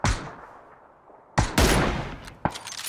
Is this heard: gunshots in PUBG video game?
yes